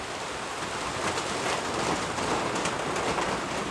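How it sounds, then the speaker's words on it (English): Steady rain falls outside a garage workshop during a Datsun 1200 rebuild, a dense, even hiss of drops with a faint low rumble underneath and no voices. "It's still raining."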